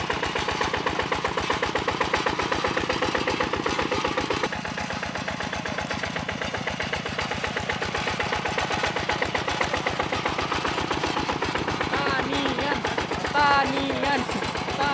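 A tractor engine plows a flooded rice field, running steadily and fairly loud throughout with a pulsing, chugging rumble, while voices talk over it.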